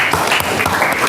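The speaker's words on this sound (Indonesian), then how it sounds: "Aplaus dulu buat Firni." Students in a classroom clap together, giving a brief, dense burst of applause at steady loudness.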